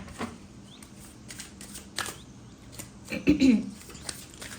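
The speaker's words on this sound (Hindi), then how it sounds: "I will place these cards here like this" Tarot cards are handled, shuffled and laid down on a surface in a few soft, papery flicks and pats, one slightly louder cluster near the end, with faint background noise and no speech.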